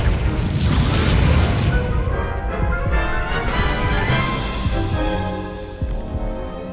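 A Confringo fire spell bursts in combat in Hogwarts Legacy, a loud, dense explosive boom that rumbles on for several seconds with crackling debris and a few sharper pops as it fades.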